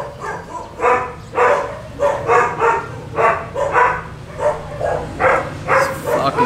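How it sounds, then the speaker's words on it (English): Neighbor's dogs barking repeatedly in a steady, rhythmic series of sharp woofs, moderately close and alone without talk, over a faint low hum. "You can't call 911 and complain on the neighbor's dogs."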